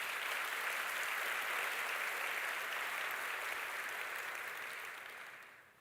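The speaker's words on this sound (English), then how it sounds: "Deserves a round of applause." A large crowd claps a sustained round of applause at a Stellenbosch University graduation ceremony, a dense even patter that holds steady and then fades away at the end.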